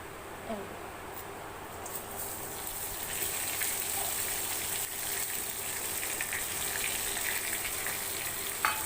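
Eggplant and neem leaves frying in hot oil produce a steady, fairly loud broadband sizzle throughout, with a few faint clicks and stirring touches near the start.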